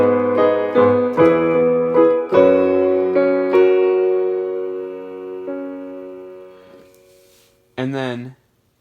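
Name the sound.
piano playing accompaniment chords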